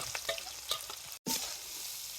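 Soybean chunks frying in hot oil in a home kitchen, a close, steady sizzle and crackle with bursts of stirring, broken by one very brief silent gap.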